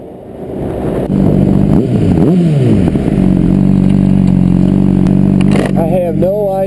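A supersport motorcycle ridden on the road, its engine droning loud and steady with a few rising and falling revs as gears shift, and wind noise and occasional clatter over the top.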